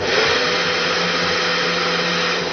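A hair dryer blows a continuous, loud, even rush of air toward a candle flame, with a wooden board placed between them; the steady roar holds without a break and no one speaks.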